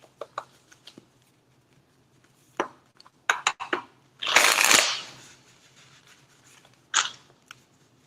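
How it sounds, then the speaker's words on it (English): Tarot cards are handled and shuffled up close in a quiet room, with scattered soft taps and flicks and one longer riffling burst midway. "You saw me shuffle"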